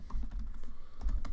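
A few quick keystrokes on a computer keyboard as a short terminal command is entered, soft clicks in an irregular rhythm, close and quiet, with no voices.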